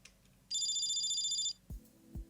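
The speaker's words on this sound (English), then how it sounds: "But then someone's phone rang." A phone rings once in the Steins;Gate 0 visual novel, a bright electronic trill lasting about a second, followed by two low thumps, heard alone without talk.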